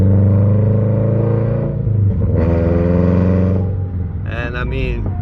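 A lowered Toyota GT86 on stiff BC Racing coilovers during a test drive, its engine droning steadily from inside the cabin, pitch rising through gears with a brief rev near the end, loud and close.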